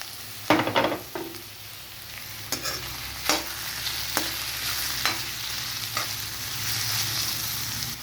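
A spoon stirs bottle gourd curry in a pan with a string of scraping strokes, each one close and fairly loud, over a constant soft sizzle of frying.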